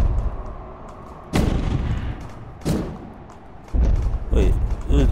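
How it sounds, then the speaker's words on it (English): A bomb gun in DEEEER Simulator fires three heavy booming blasts spaced a second or more apart, each with a thudding low rumble and decay, with a voice speaking between shots. "Wait, it was all for a bomb gun?"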